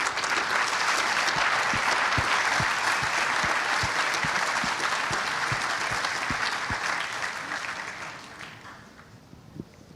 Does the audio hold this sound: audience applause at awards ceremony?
yes